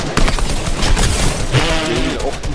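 Fortnite gunfire during a squads match, with a burst of rapid shots and booms running steadily through a short, loud stretch.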